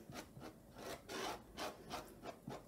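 A bowl scraper spreads cold wax paint on a portrait's second layer, making soft, rhythmic rasping strokes, about six or seven close, quiet scrapes with short pauses between them.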